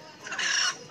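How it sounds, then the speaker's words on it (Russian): A rooster calls once at a village market in India, a short, fairly close crow lasting under a second and standing alone without talk. "Это петушок."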